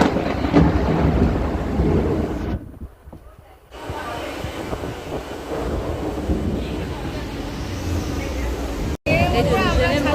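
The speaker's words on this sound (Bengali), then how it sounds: "এত জোরে বৃষ্টি হচ্ছে আমরা ছাতা ফুটিয়ে বসেছি, নাহলে পুরোই ভিজে যাচ্ছি" Heavy rain pounds a train carriage while passengers sit under open umbrellas. A loud, steady roar of downpour and wind blends with low rumbling, broken by a brief lull and a short dropout.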